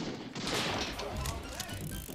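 Shotgun fire in the arcade shooter Mad Dog McCree on PlayStation 3, a dense run of booming shots and thuds layered over the game's noisy soundtrack, loud and continuous for a couple of seconds.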